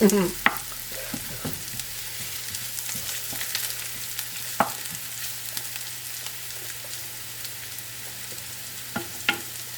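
Garlic frying in oil in a pan alongside vegetables, a steady soft sizzle running throughout with a few sharp clicks and stirring knocks scattered over it, heard up close with no talking.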